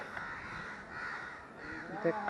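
A crow snagged in kite string up a tree gives a faint, strained caw amid steady outdoor background noise, with people talking nearby.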